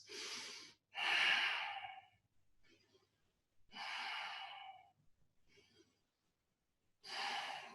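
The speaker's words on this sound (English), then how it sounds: "take 3 deep breaths" Slow, deep breaths during a yoga triangle pose come through close and clear, three long airy inhales or exhales separated by quiet pauses, with soft faint breaths between them.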